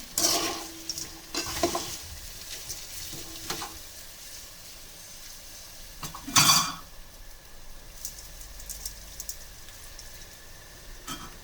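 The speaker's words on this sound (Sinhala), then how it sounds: "අල පොඩි නොවන ආකාරයට හොඳ ගාගෙන සුවඳ එනවා දැන්." Potatoes fry and sizzle in oil in a pan with a steady background hiss, while a utensil stirs and scrapes them in a few distinct, louder strokes. No one speaks.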